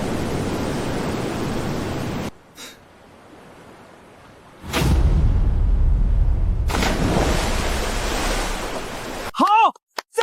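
Big waves crash near a village pier, loud broadband surging roar that drops to a quiet lull, swells again for several seconds, then cuts off abruptly with a brief sharp burst at the end.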